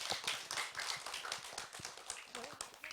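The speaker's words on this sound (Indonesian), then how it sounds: "Saya boleh minta tepuk tangannya untuk Pak Nugraha." Scattered clapping from a religious community audience in Cirebon, irregular and fairly quiet, with talk and shuffling around it.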